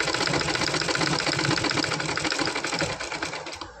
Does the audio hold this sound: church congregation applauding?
no